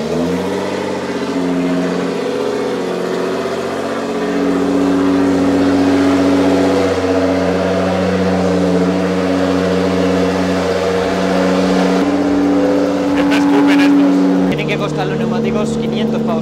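A Japanese sports car engine revs in a garage with a loud, sustained mechanical drone that rises in pitch partway through, while people talk over it.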